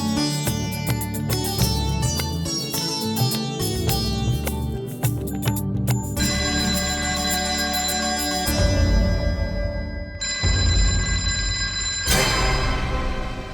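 A telephone rings loudly and steadily for over ten seconds in a home setting, its repeating electronic ringtone alone with no voices over it.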